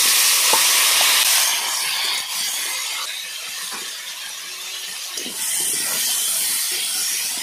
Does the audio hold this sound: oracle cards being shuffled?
no